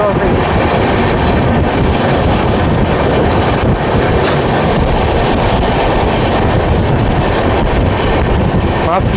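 A passenger train, the Shivnath Express, rumbles past on an Indian railway line during a crossing, its loud continuous wheel and carriage noise filling the whole stretch with steady clatter close by.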